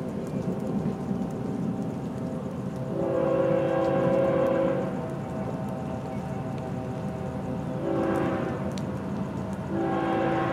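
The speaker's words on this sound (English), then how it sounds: "It's a big train, 576 axles." Florida East Coast freight train 206, a long train with 576 axles, rumbles past with a constant low roar. Its horn sounds one long blast, then two shorter ones, at a moderate distance.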